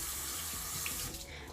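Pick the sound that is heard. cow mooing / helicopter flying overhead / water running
water running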